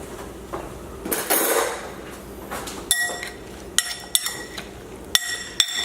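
Crispy cod pieces flipped in a hot pan, with several sharp metallic clinks and scrapes of a utensil against the pan over a steady sizzle, close and fairly loud, and no talking.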